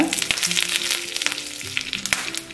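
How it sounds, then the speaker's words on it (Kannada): Loud, crackling sizzle of cumin, lentils, curry leaves and asafoetida hitting hot oil for tempering, with a few sharp pops and light stirring taps throughout. "ಇದಕ್ಕೊಂದು ಒಗ್ಗರಣೆ ಹಾಕೋಬೇಕಾಗುತ್ತೆ ಒಗ್ಗರಣೆ ಮಾಡ್ಕೋಣ"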